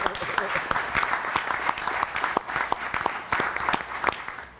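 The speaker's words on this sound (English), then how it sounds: "Let's a round of applause." Audience applause at the Germantown Board of Mayor and Aldermen meeting, a steady round of clapping from a room of people lasting several seconds, fairly close and even.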